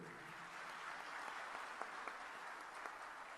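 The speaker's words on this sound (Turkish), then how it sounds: "özellikle gençlerimize kocaman bir alkış istiyorum" An audience applauds the youth at a gathering, a steady, fairly faint wash of many hands clapping with a few sharper individual claps standing out.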